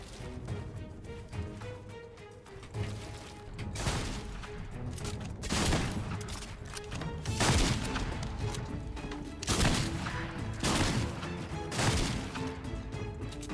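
Flintlock gunshots in a video game ring out as a series of loud, sharp cracks and booms at irregular intervals, several heavy blasts standing out over a busy background.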